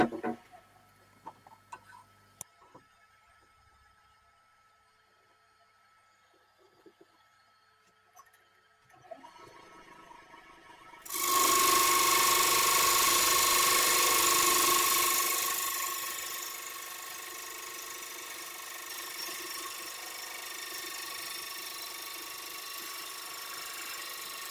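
A 3/8 inch bowl gouge trues up a lime wood platter blank held in a screw chuck on a lathe, cutting in as a loud, steady scraping whine after quiet tapping, then settling to a sustained lower hiss.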